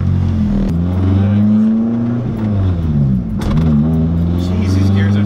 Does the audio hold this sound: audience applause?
no